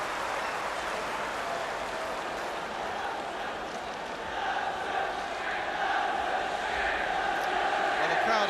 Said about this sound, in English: Crowd are making tremendous noise here now